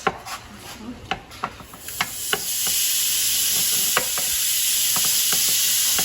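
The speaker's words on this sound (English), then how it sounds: "let's add the hamburger meat to the pot, which is hot" Hamburger meat hitting a hot pot and browning, a steady close sizzle that builds after a few scraping, stirring knocks at the start and continues evenly with occasional spatula taps.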